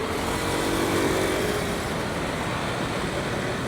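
Heavy truck rumbling past on a Quezon City road during a pedal-assist mountain bike commute, broadband engine and tire roar steady and fairly close amid continuous traffic noise, no talking.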